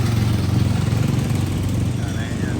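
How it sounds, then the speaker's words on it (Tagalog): A motorcycle engine runs and idles close by with a steady low rumble, and a person talks over it. "Ganyan nga yung motor natin"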